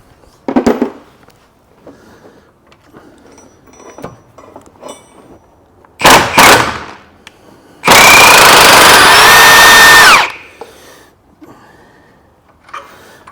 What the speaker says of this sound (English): I'm going to hit it with the gun.